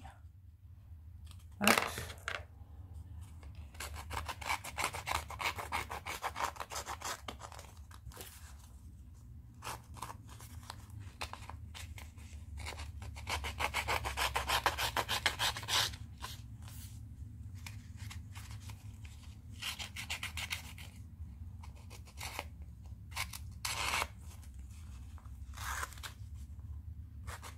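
Card paper being cut by hand for homemade cards, giving repeated scratchy snips and tearing-like strokes in bursts, close and moderately loud over a low background hum, with a brief spoken word.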